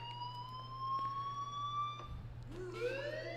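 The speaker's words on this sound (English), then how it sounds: "do you hear that fire alarm?" A fire alarm wailing inside the video game Life is Strange, with rising siren-like tones sweeping upward and a steady low hum underneath, faint and continuous with no talking.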